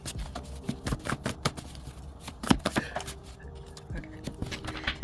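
A deck of tarot cards being shuffled at close range, with rapid riffles and soft slaps in uneven bursts, while a person talks now and then.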